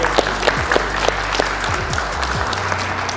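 Loud, steady applause from a crowd at an MMA event greets the fighter who has just won by knockout in the first round. Dense clapping runs throughout with a few brief low thumps.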